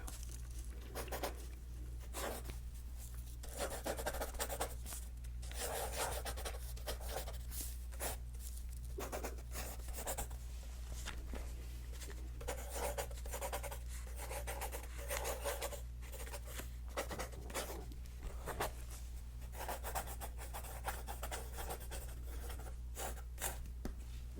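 Soft, steady scratching and rubbing of writing on paper, performed as quiet ASMR, close and continuous with a low hum underneath and no talking.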